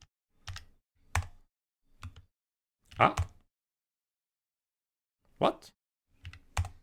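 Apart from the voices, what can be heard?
typing on a computer keyboard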